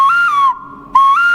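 A small clay whistle sounds two shrill, close-up toots, each a bright steady tone that wavers slightly, separated by a brief gap.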